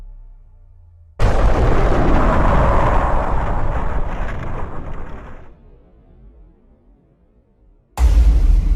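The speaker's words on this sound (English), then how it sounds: "There was an explosion" A film explosion that erupts suddenly into a loud, broad roaring blast, rumbles and fades over about four seconds, then falls nearly silent before a second heavy boom cuts in at the end.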